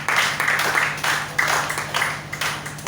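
A church congregation in Warri, Nigeria claps in uneven surging bursts, a close, moderately loud round of applause rising and falling over a low steady hum.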